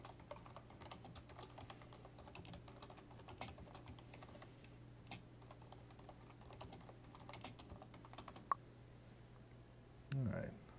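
Faint, steady keyboard typing with scattered key clicks runs under a low constant hum during a tank battle game session, ending with a brief louder burst.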